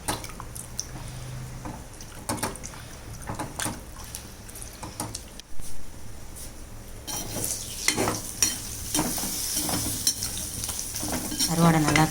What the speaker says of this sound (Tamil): கருவாடை நல்லா கிளறி விட்டுட்டு